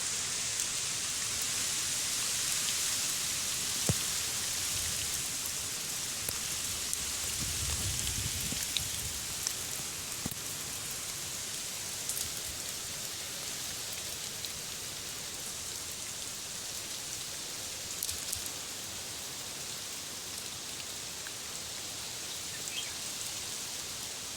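Steady rain hisses down at Pir Doh Dam, a soft, even wash of drops that continues unbroken with occasional faint taps and rustles nearby and no talking.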